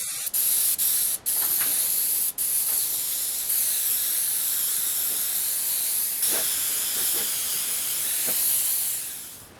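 Close, continuous hiss of an aerosol spraying red oxide paint over a model, held steady for several seconds with a few brief breaks between bursts, then tailing off.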